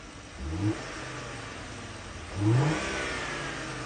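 A car engine idles and is revved twice, each rev rising sharply in pitch then settling back, close and fairly loud with no talk.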